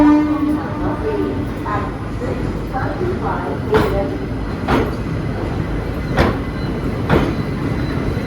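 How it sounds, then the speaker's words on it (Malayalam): The Circar Express rolls into platform 9 at Chennai Egmore station behind a WP4 locomotive: wheels clatter steadily over the rails while several sharp horn blasts or squeals cut through, and a person talks along with it. "നമ്മുടെ സർക്കാർ എക്സ്പ്രസ് ഇവിടെ എത്തിയിട്ടുണ്ട്. ചെന്നൈ എഗ്മോറിൽ 9ാം നമ്പർ പ്ലാറ്റ്ഫോമിലേക്ക് വന്നേ"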